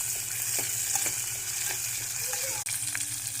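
Chopped shallots and tomato sauté in a pan, giving a continuous close sizzle and frying hiss with occasional faint stirring clicks, no speech.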